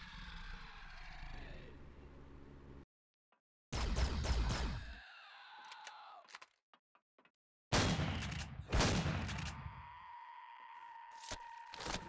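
Shotgun fire in the video game Empyrion Reforged Eden: several loud, sharp blasts in separate bursts, each followed by a short ring-out and broken by stretches of near silence.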